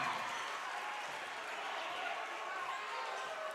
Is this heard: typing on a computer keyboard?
no